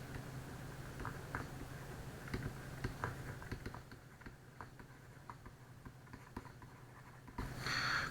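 A pen writes an equation by hand on paper, giving faint, irregular scratches and light taps over a constant low hum, with no voices.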